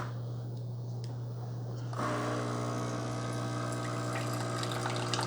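An Instant Pot 2-in-1 K-Cup coffee maker brewing a standard 8-ounce cup, a low steady pump hum joined after about two seconds by a louder continuous rush of water pouring, close by with no talking.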